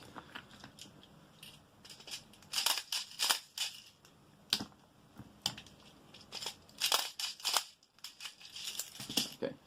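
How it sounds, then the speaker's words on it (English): 0.2 gram airsoft BBs rattle from a speed loader into magazines, a series of sharp clicky bursts and clattering pushes in uneven clusters, close and fairly quiet, with no voices. "So let's put some BBs into each mag."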